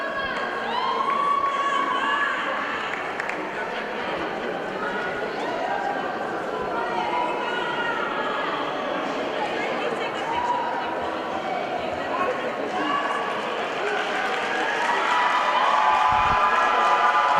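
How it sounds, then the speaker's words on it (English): Crowd at a basketball club championship final cheering and shouting as the team takes the court, a steady dense roar throughout with an announcer's voice speaking over it. "Please give them a very good round of applause as they take on to the court."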